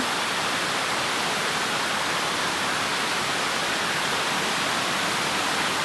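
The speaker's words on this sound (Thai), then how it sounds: "ดีใจเห็นน้ำตกยังมีน้ำเหลืออยู่เยอะแยะเลย" Waterfall in a New York forest in summer, a steady, dense broadband roar of falling water that holds constant and loud throughout, with no voices over it.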